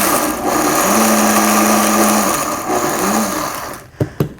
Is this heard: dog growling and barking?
no